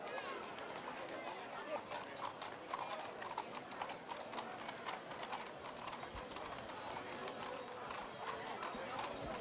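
Horse hooves clip-clop steadily across ground at an outdoor equestrian fair, many quick overlapping steps, while birds coo nearby and people talk in the background.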